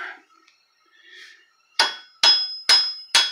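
Four sharp metallic hammer taps on strut mount bolts of a 2013 Fiat 500 Pop in an even rhythm, ringing briefly after each strike, following a moment of quieter shuffling.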